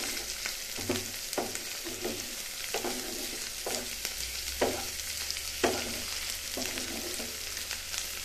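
Potatoes frying in oil sizzle steadily after water is poured in, with a series of regular spatula scrapes and stirs punctuating the hiss at close range, for a Bengali potato curry with katla fish head.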